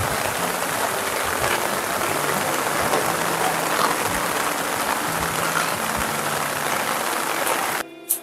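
Steady rain falls on the beach at Mandarmani, a dense, even wash of patter with no talk, broken by a brief knock at the very end.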